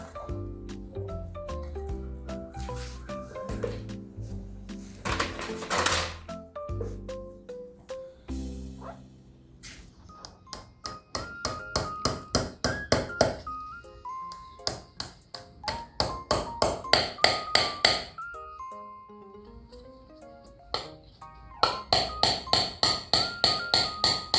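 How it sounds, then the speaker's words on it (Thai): Nails are hammered into a motorcycle tire for a DIY chair: repeated sharp, ringing taps come in rhythmic runs of strikes, some close together and some spaced, over a steady tonal background. "เราก็เอาตะปู ตอกเลยนะครับ"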